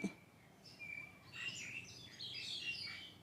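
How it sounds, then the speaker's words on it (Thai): High, thin bird calls twitter and trill from a distance, growing busier midway, over a quiet outdoor background. "เสียงนกบางอย่างร้องแปลกๆเนาะ"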